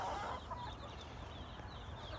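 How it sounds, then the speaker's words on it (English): Chickens clucking softly in the distance, a few short calls over a low steady outdoor rumble. "Where old Rooster at? There he is"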